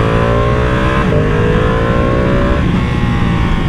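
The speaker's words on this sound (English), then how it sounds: "The sounds and the character that this bike makes" A 2023 Ducati Panigale V2 Bayliss twin-cylinder engine revs loudly and steadily, its pitch climbing through gear changes, heard up close from the bike under constant road noise.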